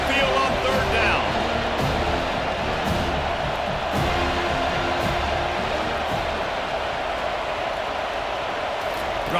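The home crowd at a Boston College versus Florida State college football game roars in a sustained wash of cheering while the defense tries to get off the field on third down, with a commentator talking over it.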